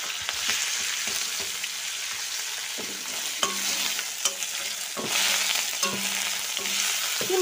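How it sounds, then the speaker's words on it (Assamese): Curry leaves fry in a pan with a close, continuous sizzle, punctuated by repeated clicks and scrapes of stirring and occasional sharper crackles, with no talking. "মই এতিয়া ইয়াত নৰসিংহৰ পাত ভাজিম"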